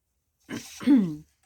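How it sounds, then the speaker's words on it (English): A single close throat clearing, a short rough rasp rising into a low voiced grunt. "I hope my clearing my throat is not annoying for you guys."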